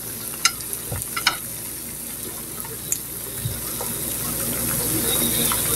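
Potatoes tipped into onions already frying in a pan, a steady sizzle building under a few clinks and scrapes of a utensil, close and fairly loud, with no talk.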